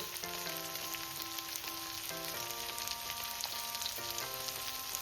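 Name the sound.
frying brinjal with onion, turmeric and salt in a pan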